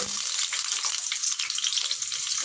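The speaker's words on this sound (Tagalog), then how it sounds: "Mainit na siya. Lagay na natin yung ating sibuyas." Onions drop into hot cooking oil for a vegetable sauté, giving a steady, close, bright sizzle and crackle that fills the whole stretch without any talk.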